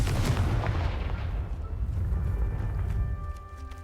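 A Confringo fire spell explodes in the Hogwarts Legacy video game as a loud, heavy boom with rumbling low end that fades out over a few seconds, and no talk.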